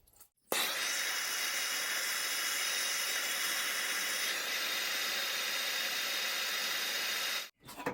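A blowtorch roars to life and hisses steadily for about seven seconds while heating a nut on the manifold of a 1949 Ford 226 flathead six, a broad close rushing hiss that then cuts off.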